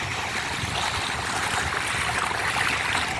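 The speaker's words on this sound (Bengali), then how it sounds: "সাথে পদ্মার এরকম সুন্দর ঢেউ" Steady rushing water with waves of the Padma river lapping continuously at Mainot Ghat, Dohar, a broad even wash of sound with no voices.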